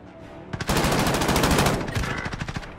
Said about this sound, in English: Taking fire! Mid-caliber here.